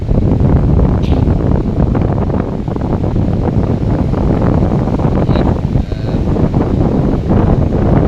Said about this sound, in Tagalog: makikita po natin ang napakalakas po ng alon. Malakas po din yung hangin